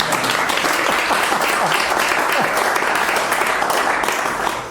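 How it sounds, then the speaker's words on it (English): A lecture audience breaks into loud, sustained applause, dense and even clapping from many hands continuing for several seconds. "You can clap."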